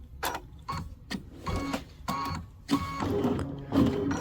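A computerized sewing machine trims its thread after the cut button is pressed, producing a series of short mechanical whirs and clicks in irregular bursts, close and moderately loud.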